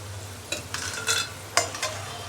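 Fried potatoes are lifted from hot oil into another vessel, with a faint background sizzle and several short scraping, clinking scoops of a utensil against the pan.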